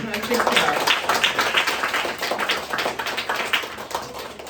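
Audience applause on a comedy show, a dense patter of many hands clapping close and steady for several seconds, fading slightly toward the end.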